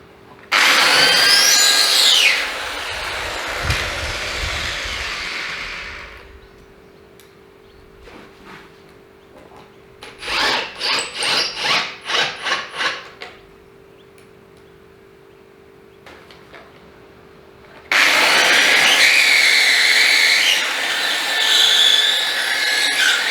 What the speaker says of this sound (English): I'm now going to pre-drill and make it a little bit easier to put the screws in.